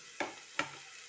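Chicken and spices going into a hot pan, two sharp sizzling hits close by, each quickly fading, with quiet background otherwise.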